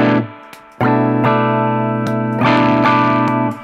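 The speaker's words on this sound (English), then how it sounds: "It does something weird and woofy in the low mids, and then it gives a lot of punch in the high mids" Electric guitar played through a boost pedal pushing a drive sound, ringing sustained chords with a gap of near silence before a strong, loud restrum and a brighter, denser section toward the end, no voices.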